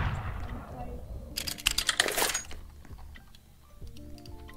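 Rapid gunshots ring out in Roblox Murder Mystery 2, a short burst of sharp cracks clustered in the middle of the moment, with a voice speaking and clicking around it.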